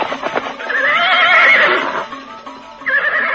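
A horse whinnies loudly and long in an audio drama as three riders halt their horses at the edge of a village by moonlight, with a few hoof clops before and a second shorter neigh after.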